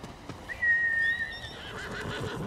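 A horse in the video game Ghost of Tsushima gives a clear, mid-loud neigh lasting about a second, with a few hoof clops and soft game ambience around it.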